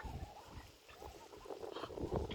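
Domestic ducks kept at home give a run of irregular, honking calls, close by and overlapping.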